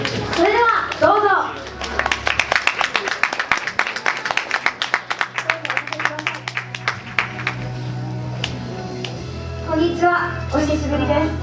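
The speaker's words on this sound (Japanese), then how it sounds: "皆さんどうぞ拍手でお迎えください。" Audience clapping welcomes a performer onto the stage at a Japanese high school performing-arts course graduation show. The applause is dense and steady, with children's voices and chatter mixed in.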